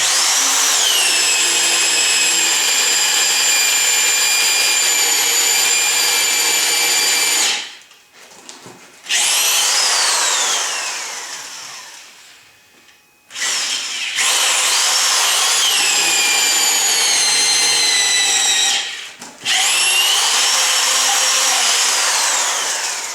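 A power drill whines loudly as it bores 10 inches down into a log, running in three long stretches separated by short pauses, the pitch sagging under load.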